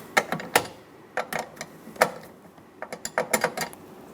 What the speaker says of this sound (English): I'm going to use my wrench, break these free, and remove them.